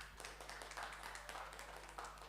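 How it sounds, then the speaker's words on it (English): Scattered audience applause for a professor at the close of a university session, faint and steady with dense overlapping claps throughout. "give applause to Professor Tony"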